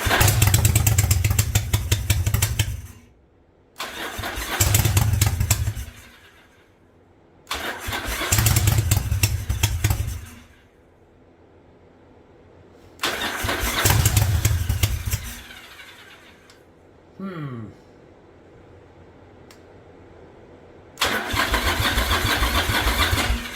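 A Yamaha Virago motorcycle, running on one cylinder after a single-carb conversion, starts and idles roughly in several short bursts, cutting out between runs with quiet gaps.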